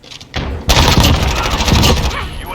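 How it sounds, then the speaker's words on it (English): Rapid bursts of automatic gunfire in the first-person shooter Modern Warfare, loud and close, starting abruptly after a quiet moment and continuing densely, with a voice talking over the shots. "like how I completely missed all my shots right there"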